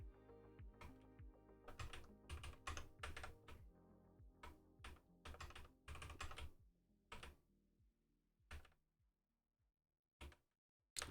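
A computer keyboard is typed on in quick irregular bursts of crisp clicking keystrokes, close and clear, slowing to a few isolated taps near the end with short pauses between.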